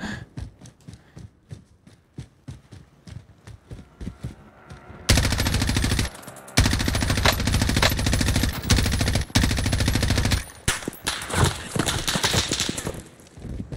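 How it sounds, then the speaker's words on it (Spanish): Heavy automatic gunfire in Call of Duty Warzone: sparse single shots at first, then loud, dense sustained bursts of machine-gun fire with brief pauses, close and overwhelming. "¿Quién verga me está disparando?"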